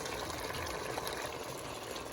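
Pepper chicken curry bubbles as it boils in a pot, the chicken releasing its water, a faint steady hiss and simmer running evenly throughout.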